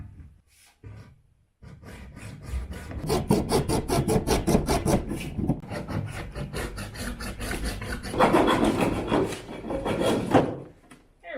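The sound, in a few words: small hacksaw cutting a piece for chicken feeder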